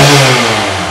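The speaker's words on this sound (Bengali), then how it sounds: "ইঞ্জিন দেখেন, ইঞ্জিনের সাউন্ড দেখেন।" A used motorcycle engine with about 44,000 km on it revs close by, a loud, brief mechanical roar that slowly eases off.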